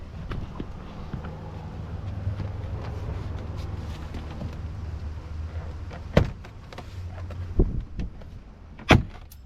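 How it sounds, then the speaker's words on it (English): Plastic door panel clips on a 2003-2006 Mitsubishi Montero pop loose, giving three sharp, close snaps spaced over the last few seconds above a steady low rumble. "It's only the clips that go in the door that snap off."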